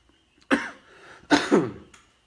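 Two harsh, throaty coughs from a chest cold sound up close, the second a quick double hack, followed by quiet.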